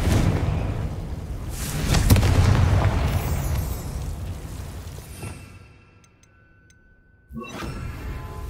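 A Confringo blasting spell goes off in Hogwarts Legacy, a loud rumbling burst with a sharp crack near its peak that trails off into near silence before another sharp hit lands.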